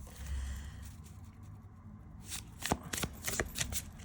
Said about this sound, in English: It's not going to be my go-to shuffling method with this deck